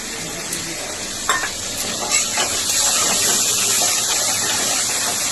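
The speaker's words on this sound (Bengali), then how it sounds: "পেঁয়াজটা একটু ভাজা মানে ভাজা ভাজা হয়ে উঠেছে আমি এর ভিতরে দিয়ে দিলাম চিংড়ি মাছগুলো" Loud, continuous sizzle of prawns frying in onions, with scattered clinks and scrapes of stirring in the pan.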